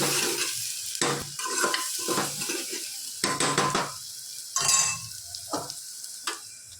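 A spoon scrapes and clatters against a pan as spices and salt are stirred together, in repeated knocking strokes over a soft sizzle, with no one speaking.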